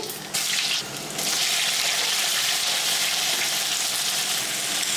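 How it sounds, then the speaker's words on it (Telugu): Mustard seeds, lentils, cumin and garlic hit hot oil in a pan, setting off a steady, bright sizzle that swells after a second and holds evenly, close and alone without talk. "నూనె వేడెక్కిన తర్వాత ఆవాలు పప్పులు జీలకర్ర వెల్లిపాయ అన్నీ వేసేసుకోవాలి"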